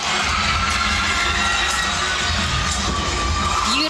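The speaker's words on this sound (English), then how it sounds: "And the crowd just goes wild." A dense, loud crowd roaring and cheering continuously at a gymnastics championship after a routine, with shrill shouts and whistles rising out of the sustained noise.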